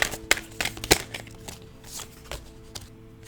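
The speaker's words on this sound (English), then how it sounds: "1 or 2 more shuffles here." Tarot cards being shuffled by hand, a handful of quick crisp riffles and taps close up, with quiet gaps between them.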